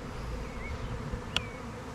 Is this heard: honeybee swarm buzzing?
yes